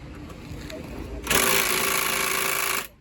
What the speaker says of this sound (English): Let's see if this drill gun can do it.